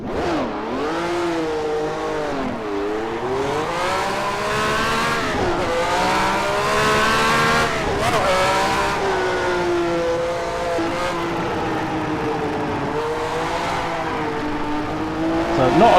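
A 1974 Ferrari Formula 1 car lapping in a racing video game: its engine screams continuously, pitch climbing and dropping through gear changes and corners, with hints of tire squeal throughout.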